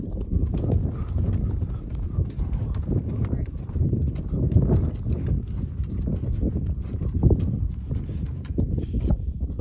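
Horse hooves trotting outdoors while riders follow cattle on a windy range, a steady clip-clop rhythm close by with wind buffeting the microphone throughout.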